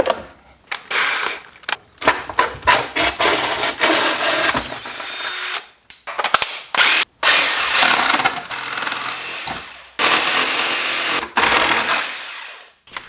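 A hole saw and jigsaw trim a BMW E36 panel in loud, close bursts of power-tool whine, stopping and restarting repeatedly, with short gaps of quiet between cuts.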